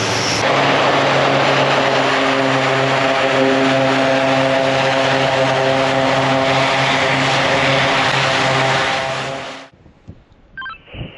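An LC-130 Hercules ski-equipped turboprop departs the snow skiway at Summit Camp in Greenland, its loud, steady propeller drone filling the air for about nine seconds before cutting off abruptly, leaving faint scattered noises.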